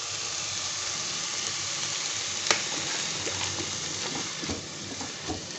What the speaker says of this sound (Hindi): हम इनको अच्छी तरह से फ्राई करेंगे